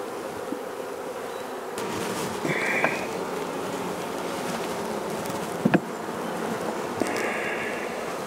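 Steady, dense buzzing of many honey bees close by as bees are shaken into a brood body during queen rearing, a continuous drone with brief faint knocks and rustles mixed in.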